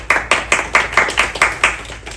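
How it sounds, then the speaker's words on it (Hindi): About nine sharp, evenly spaced claps ring out in a steady rhythm for Taimur at a cricket team players' convention, close and fairly loud with no talk. "तैमूर के लिए तालियां"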